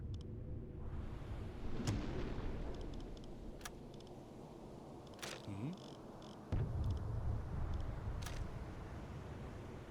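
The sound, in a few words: U-boat torpedo firing in the video game UBoat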